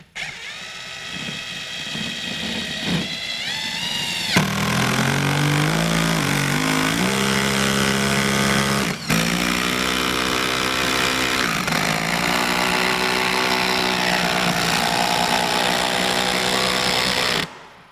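Ryobi 18V ONE+ HP compact brushless 4-mode 3/8-inch impact wrench model PSBIW driving a long lag screw into wood, a loud continuous rapid hammering whir lasting most of the clip with a brief pause partway, close and alone.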